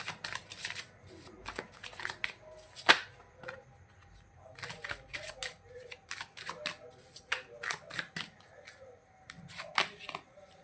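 Tarot cards are shuffled by hand in repeated quick riffles and soft slaps, a close, crisp flutter of card edges with brief pauses between bursts.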